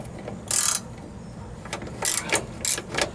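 A ratchet clicks in a few short, close bursts, working a T47 Torx striker bolt on a Jeep Wrangler YJ door. The quiet stretches in between hold faint background noise.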